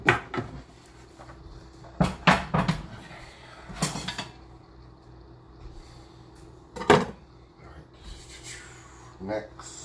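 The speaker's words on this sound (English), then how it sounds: "Knock these crumbs into the sink." Toast crumbs are knocked into a kitchen sink with several sharp taps and clatters in clusters, spaced apart, while a person talks through much of the clip.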